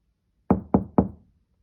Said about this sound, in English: Seeing the cottage and finding the door unlocked, she knocked.